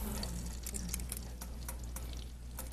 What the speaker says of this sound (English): you just take a little bit of the flour, and you can see it start to sizzle